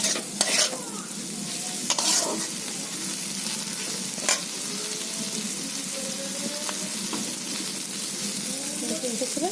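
Ground poppy seed paste stirred into gime greens frying in a pan produces a steady close sizzle with scraping stir strokes and occasional clinks of the utensil. No one speaks.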